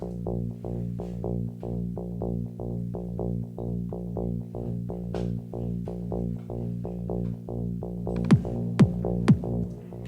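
Synth bass built in Ableton Operator for a progressive house track, a driving, rhythmic line of short repeated pulses, with a few sharp sweeping accents toward the end, heard alone.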